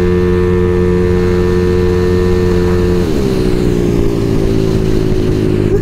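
A motorcycle engine runs loud and steady nearby, its pitch dropping then holding at a lower idle-like drone throughout.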